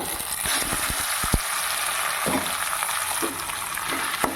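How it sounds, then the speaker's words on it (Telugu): Nuts fry in a pan for raw papaya halwa, a steady close sizzle with a few light clinks and stirring knocks scattered through it. "ఇప్పుడు ఇవన్నీ వేగాయి నట్స్ అన్నీ వేగాయి"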